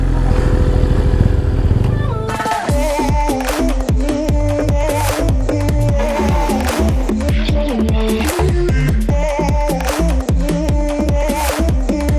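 A BMW S1000RR superbike idling close by in a garage, its engine tuned, with a steady rumble that swells and dips in repeated short throttle blips, loud and continuous from start to end.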